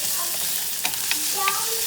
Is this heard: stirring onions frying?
yes